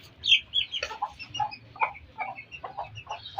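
Pet chickens in a small pet house cluck and squawk in short, irregular bursts, close and moderately loud against a low background murmur.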